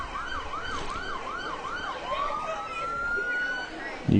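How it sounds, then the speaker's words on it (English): Emergency vehicle sirens wail through street noise at a Christmas parade in Warren, first a fast yelping warble and then a longer rising tone, moderately distant and steady, with a brief thump at the end. "You can definitely hear sirens in the background now"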